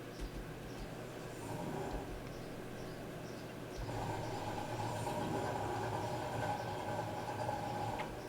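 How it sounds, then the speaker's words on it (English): A 1968 Ford Mustang engine in Farming Simulator 22 turns over and settles into a steady, fairly faint low rumble that grows louder partway through and keeps droning to the end, with no voices. "So let's try to start it up."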